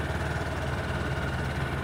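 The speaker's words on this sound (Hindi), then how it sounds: "ये देखिएगा आइडियल कंडीशन पर इंजन साउंड सुनिए," A 2024 Honda Hornet 2.0 motorcycle engine idles steadily, a continuous even rumble with no talk.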